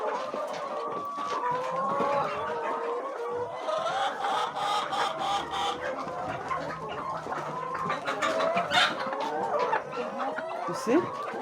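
Chickens on a poultry farm cluck and murmur continuously, many birds overlapping in a busy, close flock sound that runs throughout.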